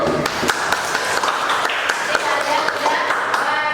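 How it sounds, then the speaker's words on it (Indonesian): Classroom audience clapping hands during a school lesson, dense clatter of claps running steadily throughout with a few sharper individual hits, voices mixed in underneath. "Tepuk tangan dulu"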